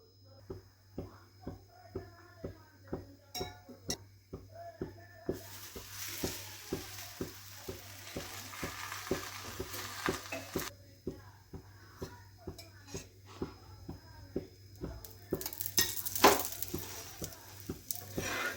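Spinach and potato paratha roasting on a hot pan, with a steady low sizzle and repeated soft scraping and pressing strokes throughout, plus brief louder hissing bursts.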